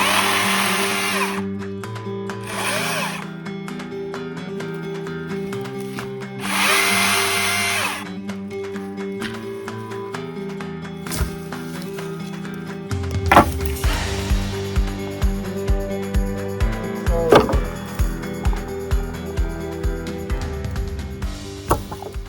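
Low-hanging tree branches along a driveway being cut up with a small power tool, bursts of whining motor separated by pauses, then a run of rhythmic repeated cuts toward the end, close and loud.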